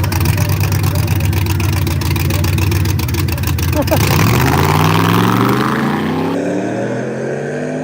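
Race car with open headers on one side roaring loudly at close range, its engine note rising in pitch as it accelerates past, with voices talking over the noise.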